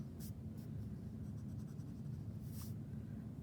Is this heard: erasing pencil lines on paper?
yes